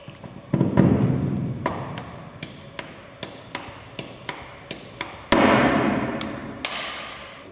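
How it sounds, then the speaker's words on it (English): Stainless steel rivets set with a hand rivet gun while fixing overlapping panel elements during an installation: a series of sharp metallic snaps and clacks at uneven intervals, close and fairly quiet, with no talk. "The elements in the overlapping area are firmly fixed using the enclosed stainless steel rivets and a hand rivet gun."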